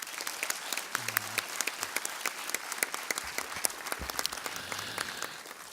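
Applause from an audience at a talk on chemical dependency and sobriety, many hands clapping in a fairly quiet, steady wash of claps heard alone.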